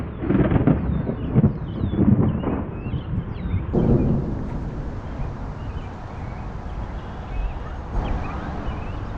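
A thunderstorm that turned into an F0 tornado sweeps over an RV campsite on Memorial Weekend, with rumbling thunder and a constant roar of wind and rain, plus faint bird chirps early on.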